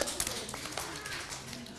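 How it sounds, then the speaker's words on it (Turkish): Children applauding in a classroom, a brief, fairly faint patter of scattered clapping that fades over under two seconds, with voices mixed in. "Hadi Halil'i bir kocaman alkışlayalım."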